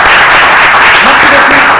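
Loud, dense applause from a crowd fills the whole moment, steady and close, with voices faintly mixed underneath.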